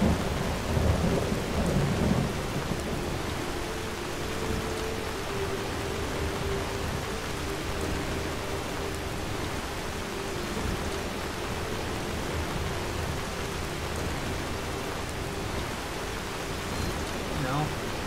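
Steady rain and thunder in the video game Enderal, a dense, even wash of rainfall with a low rumble near the start, continuing without a break.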